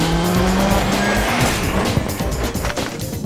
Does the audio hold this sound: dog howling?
no